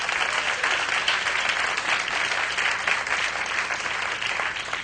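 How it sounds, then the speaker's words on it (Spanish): A congregation at a church service gives loud, sustained applause, a dense steady roar of clapping that holds at even strength from start to finish. "usted debería darle un fuerte aplauso más al Rey"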